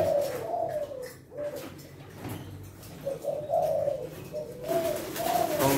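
Newly imported Thai doves coo repeatedly in a cage, a run of low, rounded calls in rhythmic phrases, close and clear with faint background noise and no talking.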